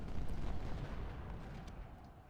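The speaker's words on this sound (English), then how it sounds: "Our cannons are still engaging." Distant cannon artillery fire in the Civil War strategy game Ultimate General Civil War, a low rumbling boom that fades out, heard alone and fairly faint.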